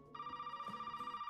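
A telephone rings in a horror video game, a steady electronic trill with a pulsing warble, fairly faint and heard alone for about a second.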